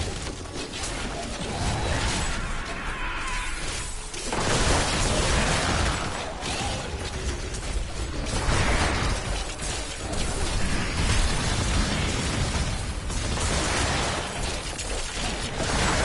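Corpse explosions in the Diablo III video game, played as a Death Nova Necromancer, go off as repeated dense bursts and pops, with loud surges every couple of seconds over a constant clatter of game effects.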